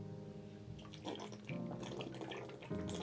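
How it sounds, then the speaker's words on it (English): Water is gulped from a bottle, a quiet close-up of sloshing liquid and swallowing in a few short bursts with no talking. "Here's an example of how to drink your water"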